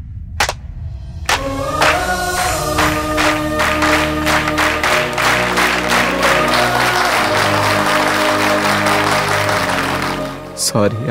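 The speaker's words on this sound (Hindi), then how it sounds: "आप लोग मेरे लिए एक बार ताली बजा दीजिए" Crowd applause in a dramatic movie scene, loud clapping that swells in after a brief pause and holds steady for several seconds with harmonic music tones underneath, fading at the end.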